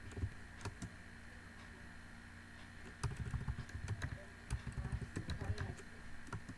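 Quiet computer keyboard typing comes in short irregular bursts of soft key clicks, busier in the second half, with faint room hum underneath.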